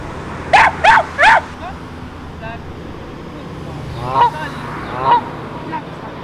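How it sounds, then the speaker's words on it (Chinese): Swans at Klaipeda harbour in Lithuania squabble with a small dog: three loud honks come in quick succession, then fainter yelps and calls follow over outdoor background noise. "小狗和天鹅吵架"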